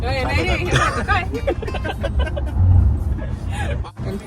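Low engine rumble of a car being driven, a steady drone from inside the cabin under lively overlapping conversation between several people.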